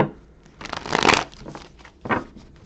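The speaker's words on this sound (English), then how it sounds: "Actually, let me do one more shuffle." Tarot cards being shuffled by hand, with several quick papery riffles in bursts, one long flurry followed by a shorter one, close and fairly loud with no talking.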